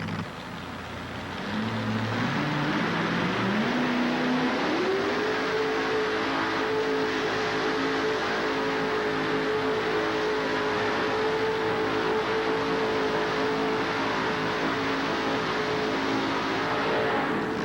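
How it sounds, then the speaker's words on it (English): A homemade pulling tractor's 572 cubic inch Chevrolet engine revs up in rising steps at a tractor pull, then holds a loud, sustained roar as the tractor pulls steadily onward. "Olendorff, the Bud Digger II, homemade tractor, 572 cubic inch Chevrolet motor on board as he gets ready to come on down right here."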